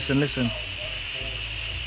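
An Instant Pot vents steam as a steady broadband hiss that runs through the whole stretch, with a voice talking over the first half.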